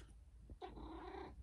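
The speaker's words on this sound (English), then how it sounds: "you're in the background meowing your head off?" A single drawn-out cat meow, close and clear, rising then held for about a second against a quiet background.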